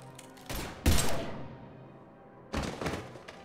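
Gunfire in the Mass Effect video game comes in several loud, heavy bursts, with a cluster of shots near the start and another volley about two seconds later, with no talking.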